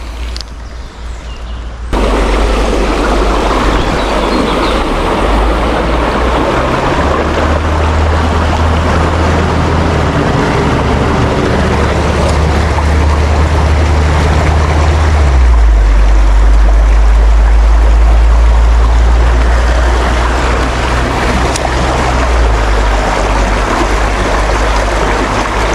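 A countryside river flows with a loud, steady rushing wash and a deep low rumble, continuous and close, with no voices.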